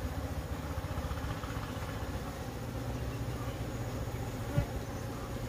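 Honeybees buzz in a dense, steady drone around an open beehive during beekeeping work. The hum is close and continuous, with a brief soft knock near the end.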